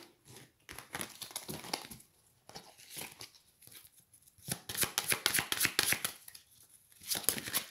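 Tarot or oracle cards drawn and shuffled from a deck during a weekly card reading, giving bursts of crisp papery flicks and riffles in close, uneven clusters with short pauses between.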